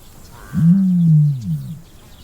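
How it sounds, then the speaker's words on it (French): A deep, low rumbling ostrich boom swells for about a second, like a resonant animal call, with a faint breathy hiss around it. "Les sons qu'elle émet ressemblent davantage à des sifflements, des grognements ou des mugissements."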